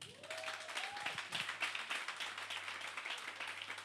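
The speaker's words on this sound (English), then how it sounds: "I would like you to all start, with a round of applause for yourselves" Audience applause at the Ake book festival, a continuous patter of many hands clapping, moderately faint, with a brief voice at the start.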